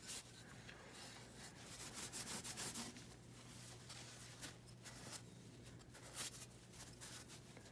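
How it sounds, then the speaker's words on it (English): Linseed oil being rubbed by hand into a wooden violin fingerboard, a faint, continuous dry rubbing and scraping that comes in repeated strokes, close and quiet with no talking. "gonna get some more linseed oil here. Rub it in everywhere I can."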